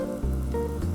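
Bacon pieces sizzle on a Blackstone 22-inch griddle as an omelette topping, a short burst of close, steady frying crackle.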